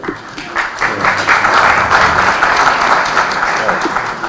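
Audience applause fills a panel hall after a talk by a university lecturer, a dense steady wash of clapping from many hands that stays loud and even throughout, with no speech over it.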